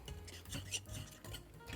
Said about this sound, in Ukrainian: Виделкою перемішуємо яйця і відправляємо до бананів.